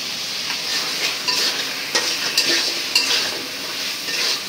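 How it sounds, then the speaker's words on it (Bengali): Ridge gourd, potato, okra and Malabar spinach sautéed in a pan, a steady hiss of frying broken by several scraping stirs and light clinks of the utensil against the pan, close and alone. "তারপর সবজিগুলো আগে কষাই নিই।"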